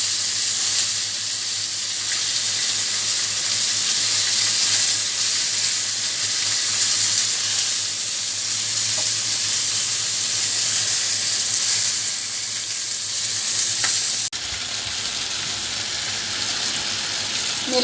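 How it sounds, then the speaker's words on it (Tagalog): Shredded mushroom sautéing in a pan gives a loud, steady broadband sizzle that hisses on without a break for nearly eighteen seconds, with a slight drop in level near the end. "Nilagay ko na rin yung shredded mushroom. Igisa ng sandali ng mga 3 minuto."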